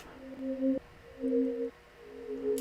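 A one-shot bell sample processed with reverb and a volume shaper rings out as a soft, pad-like tone, three sustained swelling notes each fading into a smooth reverberant tail.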